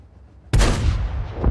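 A single loud tank gun blast in World of Tanks cracks out abruptly, then a long rumbling tail decays away with no talking.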